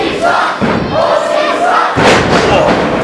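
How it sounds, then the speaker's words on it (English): Independent wrestling crowd chanting against a wrestler, loud rhythmic two-beat group chants repeating in bursts, close and forceful with occasional thuds and no separate talk. "the crowd starts chanting, Hawke sucks"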